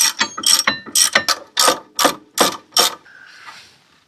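Rapid clicking bursts of a big 1/2 inch drive ratchet tightening a brake caliper bolt on a 1998 Mercedes-Benz C230, about a dozen sharp close pawl clicks in quick strokes before a faint trailing rustle.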